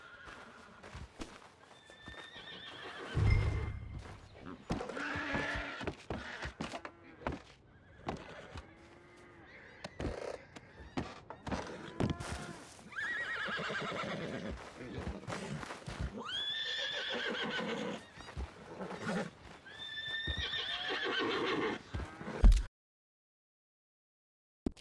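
Horse neighs and whinnies repeatedly, mixed with clip-clopping hooves, from Red Dead Redemption 2 gameplay on Xbox, with game ambience and other sounds throughout before a short silence at the end.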